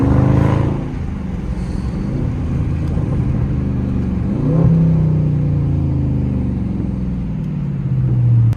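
The engine of a stage 4 cammed Chevy SS hums loudly nearby, rising into a revving swell partway through before settling into a steady drone.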